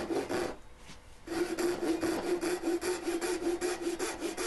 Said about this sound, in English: You can see the Japanese ryobi saw just goes through it like nothing.